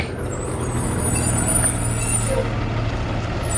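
A bus drives past with a loud hiss of air brakes over a steady, close diesel engine rumble that holds throughout.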